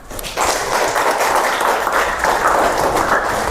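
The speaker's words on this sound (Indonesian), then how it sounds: "Tepuk tangan" A fifth-grade class at an Islamic primary school breaks into applause, steady dense clapping starting abruptly after a brief pause and continuing evenly, fairly close.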